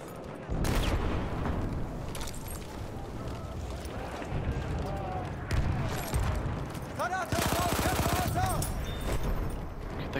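Sustained automatic fire from an Automatico submachine gun rattles through a battle at Fort de Vaux in a first-person shooter. Dense rapid bursts come with distant explosions and shouting players under a constant roar of combat.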